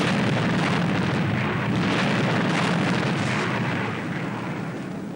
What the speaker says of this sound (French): Attention à mon signal, attention à l'explosion.